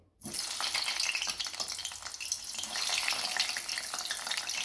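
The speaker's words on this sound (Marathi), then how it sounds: "आता यामध्ये आपल्याला ही वांगी सोडायची आहेत" Eggplant pieces drop into hot oil in a kadai, and a loud, dense sizzle erupts almost at once and keeps crackling steadily throughout.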